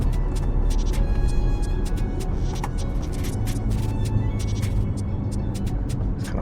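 A BMW 530i with barely any muffler drives along, its engine and exhaust a steady, loud rumble with road noise and scattered clicks throughout.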